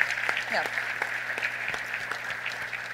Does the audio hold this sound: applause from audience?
yes